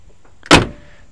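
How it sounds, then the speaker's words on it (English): A 1968 Mercury Park Lane Brougham door swings shut with one solid, close thunk, then quiet. "Typical Ford door closures of the era, just excellent."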